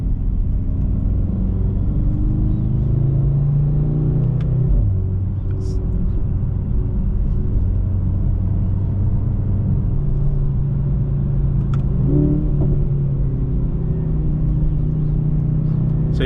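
A 2025 Mercedes-AMG C63 engine rumbles loud and close from inside the car, with a rise in pitch near the middle as the revs climb on a downshift, then a steady drone.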